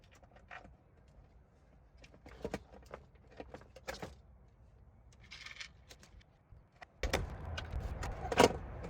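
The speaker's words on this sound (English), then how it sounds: "I will grab some hardware and just start putting it through" Metal skateboard truck hardware bolts clink and rattle as they are picked up and pushed through a deck's holes, sparse small taps and jingles up close, ending in louder handling noise.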